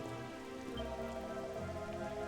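Steady patter of rain falling in Dragon Quest 11 on PC, a soft dense wash of drops over a calm melodic game music background, with no talking.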